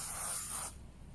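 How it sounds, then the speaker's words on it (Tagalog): Sunblock sprays from an aerosol can in one steady, close, loud hiss lasting under a second, then stops abruptly, leaving a faint room background. "We'll just spray extra sunblock."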